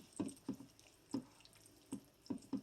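Water poured from a can into cream soup in a pan, heard as a few separate soft drips and splashes at an uneven pace, faint and close, with no talking.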